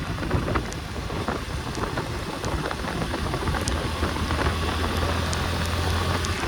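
Steady rain falls and patters on surfaces in a dense, even hiss, close and continuous throughout, with occasional sharper drips standing out and no talking.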